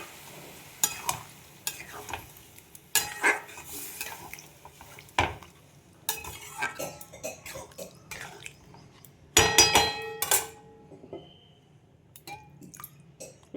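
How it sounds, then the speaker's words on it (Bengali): Daliya cooks in a pan as water is poured in and stirred, with sizzling, scraping utensil strokes against the pan and irregular clanks, close and fairly loud with quieter pauses between bursts. "থালাটার মধ্যে যা লেগেছিল সব মিশিয়ে জলটা দিয়ে দিলাম।"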